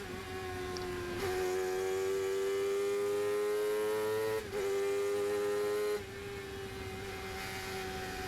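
A sports racing car lapping the Snetterton circuit, its engine droning loud and steady as the pitch climbs, with sharp gear shifts marked by sudden drops and restarts of the rising tone.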